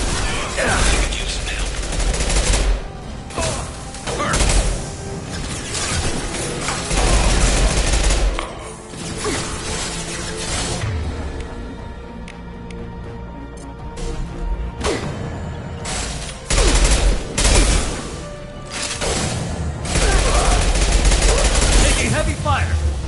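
Heavy gunfire in the Mass Effect 2 video game, loud sustained bursts of automatic fire and shots that pound almost continuously, with brief lulls and surges.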